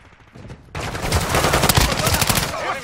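Automatic weapons fire in rapid bursts in a military shooter video game. The shooting is loud and close, breaking in abruptly after a brief quiet start and continuing steadily to the end.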